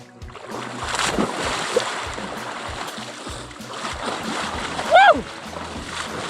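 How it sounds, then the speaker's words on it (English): A person plunges into chilly water at a sandy shore during a bikepacking trip: a loud splash near five seconds stands out over steady wind and water noise, with voices around it. "Let's go for a dunk."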